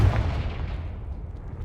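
A Confringo spell in Hogwarts Legacy sets off a deep, booming blast whose heavy low rumble decays steadily over under two seconds.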